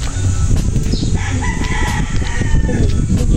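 Chickens and fighting roosters in a yard crow and cluck loudly and close, with several overlapping calls over a dense rustling ground noise and no talk.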